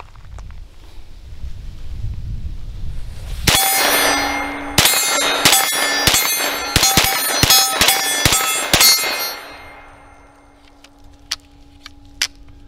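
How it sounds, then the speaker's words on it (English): A Grandpower Stribog pistol-caliber carbine fires a string of about eight loud, sharp rounds at an outdoor range, closely spaced metallic cracks with ringing decay, then a quiet pause and two faint distant pops. "Let's see if it fires."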